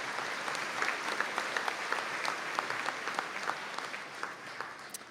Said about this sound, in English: And can we give them all a round of applause